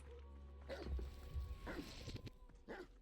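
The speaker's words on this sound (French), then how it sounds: "Qu'est-ce qu'il y a là? Des chiens." Dogs in a video game give three short barks spaced about a second apart, faint and distant over a low background hum.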